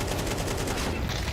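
Rapid bursts of pistol gunshots in Counter-Strike, a quick loud cluster of cracks packed into a second and a half during a professional esports match.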